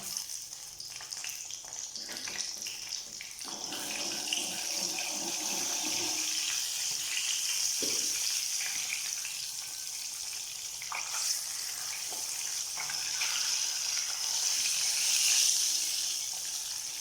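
Cut pieces of boiled egg fry in hot oil for a spicy pepper egg fry, giving a continuous close sizzle and crackle with occasional stirring scrapes, rising slightly toward the end.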